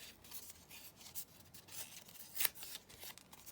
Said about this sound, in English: Let's just tear this down.